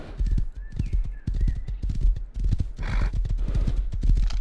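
Horse galloping in the Rust console video game, a steady run of loud clip-clop hoofbeats with an occasional whinny, close and continuous with no talk over it.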